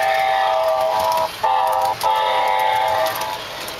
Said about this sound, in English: This is a typical diesel horn sound